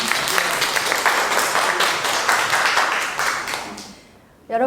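The audience at an NFT, DAO and art talk session gives the panelists a round of applause, brisk and fairly close. The clapping fades away near the end, and a voice starts speaking just as it dies out.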